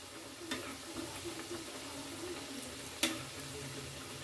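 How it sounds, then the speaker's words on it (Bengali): Chhatu-stuffed khasta kachori frying in hot oil until golden red, a soft continuous bubbling sizzle with a couple of faint clicks from a utensil, close but low in level. "এবার ভালোভাবে লাল লাল করে ভেজে নেব।"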